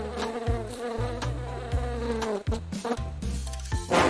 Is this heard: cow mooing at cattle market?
no